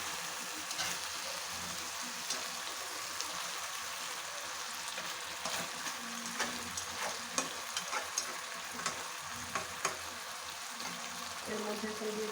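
Hilsa fish chachari curry is stirred and fries in a pan, a soft steady sizzle broken by scattered scraping clicks of the spatula, fairly quiet and close, with no one speaking.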